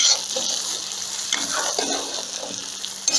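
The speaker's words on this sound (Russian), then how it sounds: "Все перемешиваем." Beef with carrots and spices frying in a kazan for plov, stirred with a steady close sizzle and hiss and a few scraping clatters from the utensil, with no one speaking.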